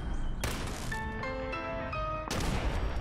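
Gunfire in the Fallout 4 video game aimed at a turret, two sharp loud bursts of shots at the start and near the end, with tonal game sounds ringing between them.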